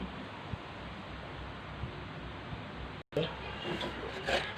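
Fresh coconut is scraped by hand for a traditional Thai banana and coconut dessert, making a continuous close rasping scrape that breaks off briefly and then resumes with sharper strokes.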